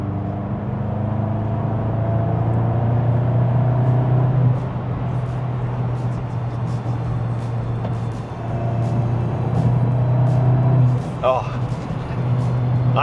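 A Golf GTI MK8.5 Clubsport's artificially enhanced engine note, a steady low hum heard from inside the car under ongoing talk, swelling briefly a couple of times.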